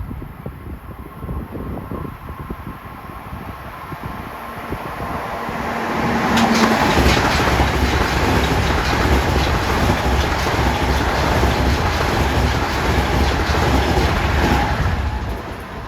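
A Long Island Rail Road train bound for Huntington passes on triple track, first a low rumble approaching, then a loud sustained roar of wheels and cars going by close, with faint clickety-clack throughout.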